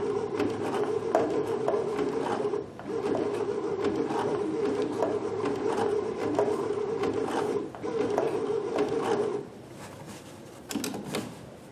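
A Babylock Sashiko sewing machine stitches steadily in a fast, even mechanical chatter that runs without pause for most of the time, then drops away into quieter handling sounds near the end.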